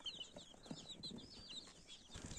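Older chicks, including Brahma and Bantam birds, cluck and peep softly in their pen, with high chirps and low clucks overlapping in a quiet, continuous flock chatter.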